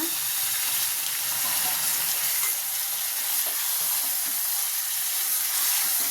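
Country chicken meat frying in oil with ginger garlic paste, a steady broadband sizzle holding evenly throughout with faint stirring and no talk.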